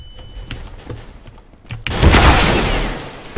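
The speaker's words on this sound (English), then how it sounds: "Throwing a flashbang." A flashbang goes off amid gunfire in Counter-Strike on de_cache: scattered thumps and shots early, then a loud, sustained burst of noise and rumbling fire for the last second and a half.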